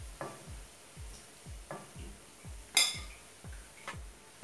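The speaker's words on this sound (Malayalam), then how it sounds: "മീഡിയം ഫ്ലെയിമിലിട്ട് വേണം ഫ്രൈ ചെയ്തെടുക്കാൻ" Semolina rava vada cooking in oil over a medium flame, with soft repeated scraping and stirring strokes at a regular pace and a light metallic clink from the pan, the sizzle staying low underneath.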